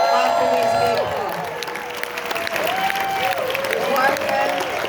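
A crowd at a Q&A for the film Everything Everywhere All At Once applauds loudly and continuously, with cheering, whoops and raised voices riding over the dense clapping throughout.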